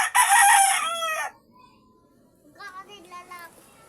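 A rooster crows loudly and close by, a long harmonic call lasting about a second, followed after a short pause by softer clucking from chickens in a farmyard.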